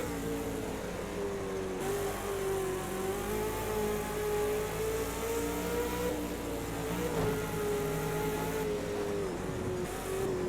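A race car engine in Project Cars 2 at Bathurst drones steadily at high revs, its pitch wavering slightly through gear and throttle changes, loud and continuous with no talk.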